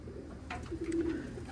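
Racing pigeons coo softly at a loft, one low throaty coo rising briefly over faint background rumble, quiet and close.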